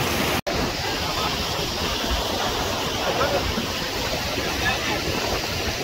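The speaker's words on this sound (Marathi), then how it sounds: "धबधबा मोठा दिसतोय असं" A large waterfall on a river gives a loud, continuous roar from nearby, unbroken apart from one very brief dropout near the start.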